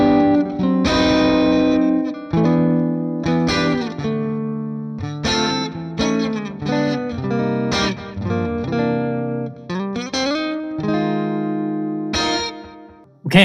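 Electric guitar played through an Amplitube 5 Mesa Boogie amp simulation rings out in distorted chords and riffs, loud and close, with sharp attacks, sustained notes and brief pauses between phrases.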